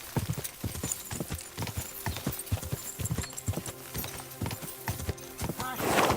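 Horse hooves clip-clop in a steady, fairly quick rhythm close by, with an occasional whinny. Some faint voices sit under the hoofbeats, and a louder rush of sound rises at the very end.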